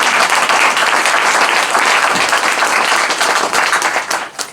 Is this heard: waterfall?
no